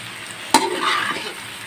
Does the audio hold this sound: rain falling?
no